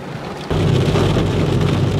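Heavy rain pours down nearby, a dense steady hiss that suddenly grows louder and fuller halfway through, with a low rumbling undertone.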